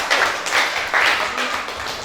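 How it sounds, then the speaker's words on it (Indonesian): Classroom audience clapping for a student group after its presentation, a steady burst of many hands sustained throughout, fairly close and loud. "Oke, tepuk tangan buat kelompok 4."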